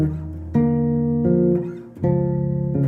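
Bass guitar slowly playing chords from the bridge of a song, three sustained strummed chords, each ringing before the next, solo and close.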